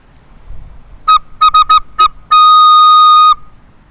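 A small wind instrument blown with no finger holes covered gives several short piercing whistle-like toots, then one long sustained bright tone, loud and close.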